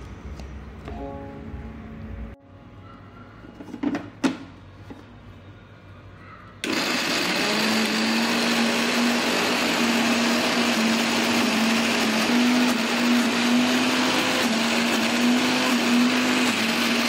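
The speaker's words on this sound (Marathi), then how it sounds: "ह्याच्यामध्ये आपण थोडंसं दही टाकूया आणि हे मिश्रण छान बारीक करून घेऊया आता" A kitchen mixer grinder blends avocado chutney with curd, sugar and salt, starting abruptly after some clinks and handling sounds, then whirring loudly and steadily at close range until the end.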